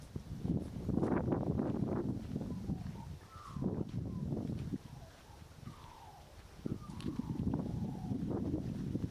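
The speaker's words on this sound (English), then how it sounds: "That's the sound of a magpie." Warbling, fluting Australian magpie calls sound faintly over rustling wind and low rumbling noise in Western Australia, coming in short phrases with gaps between them.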